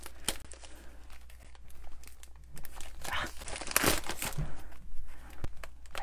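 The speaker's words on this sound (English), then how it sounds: "Just use my scissors to slice it open." Close crinkling of plastic wrap as scissors cut and tear it open in several bursts, getting louder partway through.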